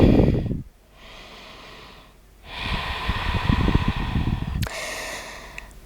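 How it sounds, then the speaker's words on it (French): Slow, audible ujjayi breaths in and out during Ashtanga yoga practice, a steady hissing rush like ocean surf, close and loud, with a brief pause between breaths. "Reprenez le contact avec la respiration Ujjayi si vous avez perdu ce bruit de l'océan"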